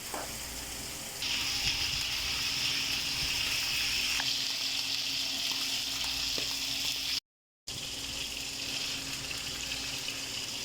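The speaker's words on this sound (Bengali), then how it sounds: "মাছ ভাজা হচ্ছে বন্ধুরা, দেখতে থাকো।" Fish sizzles and crackles steadily in hot oil in a pan, a continuous close frying hiss that grows louder after the first second and runs on with a brief gap, no voices over it.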